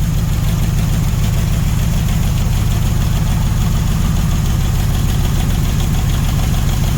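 A Mopar 400 big-block V8 in a 1964 Dodge Polara 500 hot rod, idling steadily with a loud, even, lumpy rumble and no talking.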